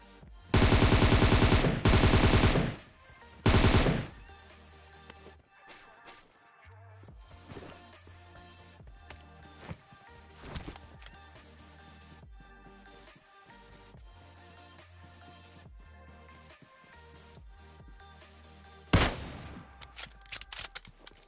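M4 gunfire in the game PUBG: loud rapid automatic bursts open the moment, then quieter scattered shots and game sounds, before another heavy burst near the end, with no voice over it.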